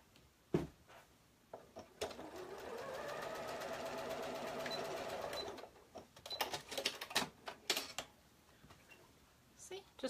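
A sewing machine runs in one steady burst for several seconds stitching a cardigan hem vent, close and fairly quiet, bracketed by clicks and handling noises of fabric and machine parts.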